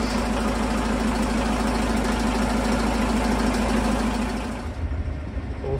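A steady, low boat engine idles continuously with a rumbling drone, then the tone shifts and wavers near the end.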